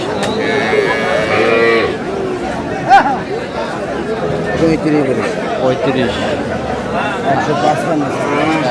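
A cow with a calf moos among a busy cattle market at Aftabganj haat, with constant crowd chatter and voices bargaining nearby, plus a brief sharp knock midway.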